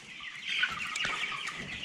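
Chickens cluck steadily and close by, several birds overlapping in a continuous farmyard chatter with one brief sharper call, no talking.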